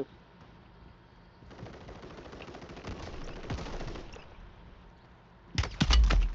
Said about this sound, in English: Oh, somebody shooting